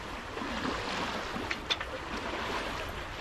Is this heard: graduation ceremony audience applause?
no